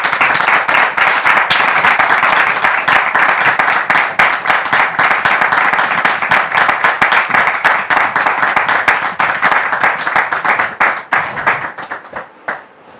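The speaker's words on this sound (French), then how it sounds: "Merci de le recevoir ici et maintenant sous vos applaudissements." An audience claps steadily to welcome Brother Mathieu onto the stage, a dense, loud ovation of many hands that runs for over ten seconds and thins toward the end.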